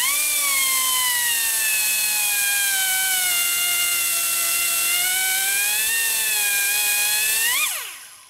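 A milling cutter machines a 1948 Harley-Davidson panhead 74ci motor case, giving a loud, steady high-pitched whine with harmonic overtones. The pitch drifts slightly and rises near the end, then the cutter spins down to quiet.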